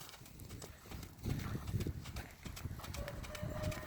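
Hoofbeats of a young horse under a rider during a schooling lesson, with a soft, rhythmic clip-clop on arena footing, fairly faint against a gentle background hiss.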